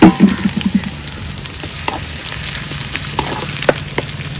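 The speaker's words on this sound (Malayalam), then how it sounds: "താളിപ്പിക്ക് എണ്ണ ചൂടായിട്ട് ചെറിയ ഉള്ളില്ലേ അതും അതേപോലെ വെളുത്തുള്ളി കേട്ടോ അത് എണ്ണയിൽ നല്ലോണം ഒന്ന് മൂപ്പിച്ചെടുക്കാം" Shallots and garlic fry in hot oil for a tempering, opening with a sharp burst of sizzle that settles into a steady crackle with occasional stirring clinks, close by.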